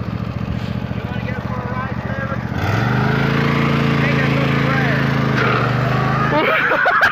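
A toy tractor engine revs up and holds a steady, loud drone after a few seconds, running in high gear close by, with people talking and laughing over it.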